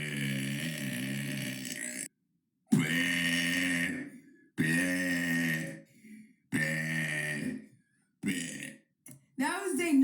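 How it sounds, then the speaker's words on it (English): A person lets out a series of long, loud, drawn-out burps, about five separated by short silences, with a few shorter ones near the end, close and alone. "That was day 97 of burping for 100 days."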